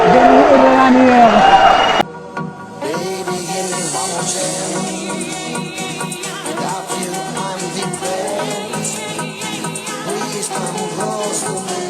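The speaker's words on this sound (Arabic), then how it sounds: "الهدف الثالث لفريق الاتحاد الليبي تحت تشجيعات الجماهير الحاضرة هنا" A stadium crowd roars and cheers after a third goal for Libya's Al-Ittihad in a match against Espérance de Tunis, starting with a loud burst that then settles into sustained cheering under a commentator's voice.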